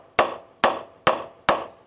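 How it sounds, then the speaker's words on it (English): Four sharp, evenly spaced hammer blows drive a nail into wood while building a garage table, stand and shelf, each a loud close crack with a short ringing decay. "let's nail that in a little bit more"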